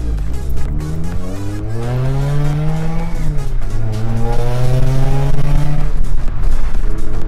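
A loud Mazda RX-8 rotary engine revs up and down with a smooth, buzzy rotary whine, pitch climbing and falling in long sweeps, steady and close.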